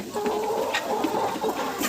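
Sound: chicken clucking

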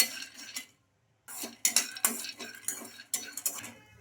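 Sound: peanuts being roasted and stirred in a kadai

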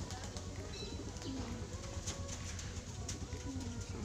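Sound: many pigeons cooing

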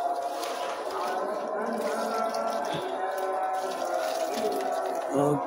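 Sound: watering a jackfruit plant

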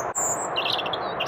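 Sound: European robin singing

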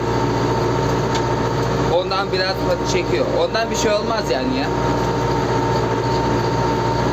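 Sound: tractor engine running on slippery snowy slope

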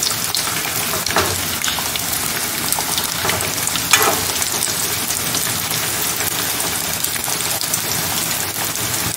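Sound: veg burger patties frying in a pan

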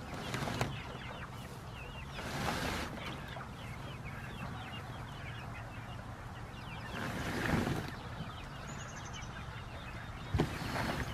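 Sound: chickens clucking

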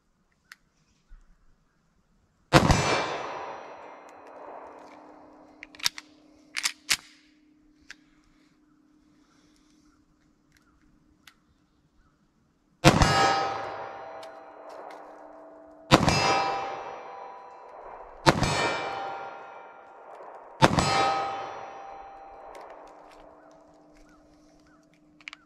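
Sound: 40 S&W pistol shots at 25 yards

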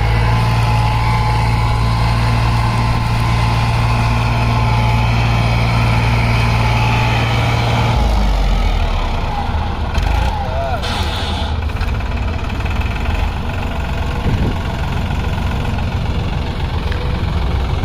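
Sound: sugarcane harvester machine cutting cane

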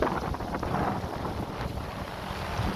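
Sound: motorboat engine running

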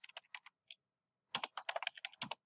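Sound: typing on a computer keyboard

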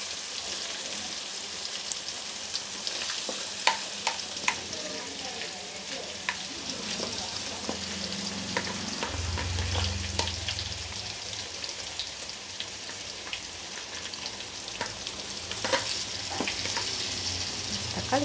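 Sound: onion and ginger garlic paste frying in a pan

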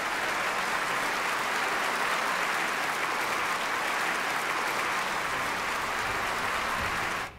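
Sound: archived applause recording played

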